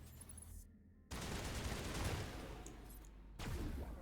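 Gunfire in Mass Effect Legendary Edition comes as dense, loud bursts of rapid shots, cutting off abruptly between volleys, close and harsh with no talk over it.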